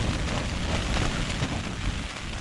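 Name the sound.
wind and rain outdoors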